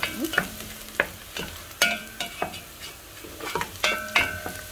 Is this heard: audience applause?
no